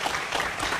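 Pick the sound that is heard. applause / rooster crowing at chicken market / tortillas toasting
applause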